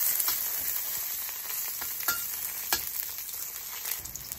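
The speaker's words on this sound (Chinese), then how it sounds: "我们再下这些芫荽梗、葱头，继续给它爆香了" Ginger, garlic, coriander stems and shallots stir-fried in a wok over low heat, giving a continuous close sizzle with spatula scrapes and clinks throughout, no voices.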